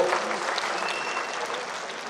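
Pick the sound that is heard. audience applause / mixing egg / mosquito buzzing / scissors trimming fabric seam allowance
audience applause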